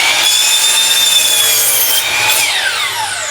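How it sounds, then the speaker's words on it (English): A hand saw cutting through wood for a ramp build, with long rasping strokes that rise and fall, loud and close, with no talking. "You're literally tilting the saw."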